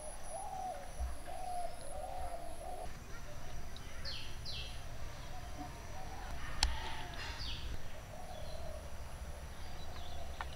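A bird near a village outdoor cooking spot gives soft, repeated hooting calls over a steady ambient background, with faint chirps and a sharp click partway through.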